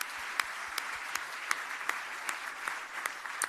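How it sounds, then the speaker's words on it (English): Steady applause from an audience at a national engineering awards ceremony, dense clapping with sharp individual claps standing out, no voices over it. "A round of applause, please."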